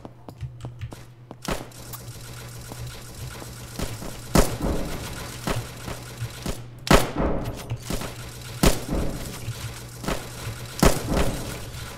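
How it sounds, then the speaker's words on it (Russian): Gunshots in the Roblox game Trenches, sharp isolated cracks fired at irregular intervals, some close and loud and others fainter, over a low steady background hum. "Я пока стреляю просто в направлении."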